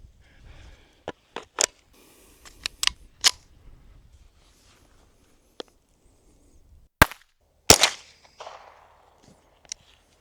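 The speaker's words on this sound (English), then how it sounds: "And penetration test on soybeans, starting with 22 long rifle." Sharp .22 Long Rifle gunshots fired into soybeans during a farm ballistic test, a dozen or so crisp cracks spaced irregularly with a couple of louder reports near the end, set against quiet background.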